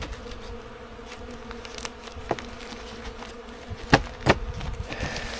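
Bees buzz in an opened beehive, a continuous close droning hum with a few sharp knocks and clunks from hive equipment being handled.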